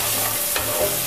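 Chopped tomato, green chili, ginger and chili powder fry in hot oil in a wok, giving a loud, continuous sizzle close by, with a brief stirring scrape in the middle.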